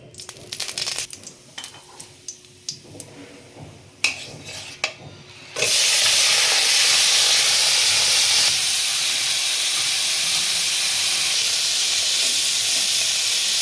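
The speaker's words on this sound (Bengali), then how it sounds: "অল্প তেল দিয়ে আমি মাছটা সাঁতলে নেব" Prawns go into a little hot oil in a pan. After some light clatter, a sudden, loud and steady hissing sizzle starts and continues close by with no talk.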